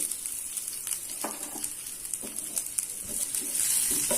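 Crushed garlic cloves fry in hot oil with mustard seeds for an onion thokku, a steady close sizzle broken by scattered small pops and crackles, with no talking.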